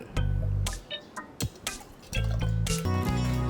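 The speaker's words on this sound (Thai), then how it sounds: "เดี๋ยวผมจะตักใส่เหยือกให้เพื่อนๆดูสีของมันหน่อยเนาะ" Butterfly pea flower drink is ladled into a jug, producing wet splashes and dribbling pours in short bursts over a steady low humming tone.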